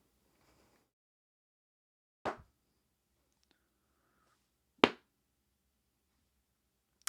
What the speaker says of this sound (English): That is a glove clap.